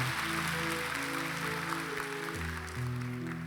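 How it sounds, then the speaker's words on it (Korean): Church congregation applauding during a Sunday worship service, steady moderate clapping over sustained organ or keyboard chords that play throughout. "박수하겠습니다."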